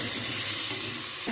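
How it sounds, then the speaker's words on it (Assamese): Vegetables frying in a pan with a little Kashmiri chilli powder, a steady close hiss and sizzle running throughout without pause. "চব্জিখন ভাজি হৈ গ'ল।"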